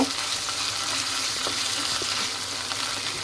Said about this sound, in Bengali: এখন আমি এই যে কেটে রাখা মাংসগুলো দিয়ে দিব। একটু ভেজে নিব